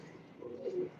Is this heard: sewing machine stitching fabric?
no